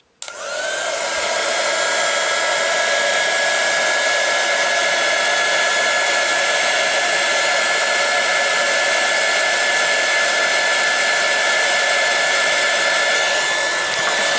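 A hair dryer blows steadily and loudly up close for the whole stretch, drying paint on a colouring page; the steady whine starts abruptly and continues alone without any talk.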